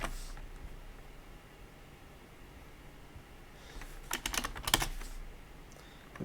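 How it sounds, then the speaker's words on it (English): Computer keyboard typing in a quiet room, a brief burst of rapid key clicks near the end after a short tap at the start. "Typing it out again."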